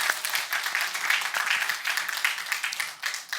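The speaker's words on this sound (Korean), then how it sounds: "뭐 박수 한번 쳐줄까요?" Church congregation applauding a returning evangelist during a Sunday service, a steady wash of many hands clapping at moderate volume, continuous and even for a few seconds before tapering off slightly.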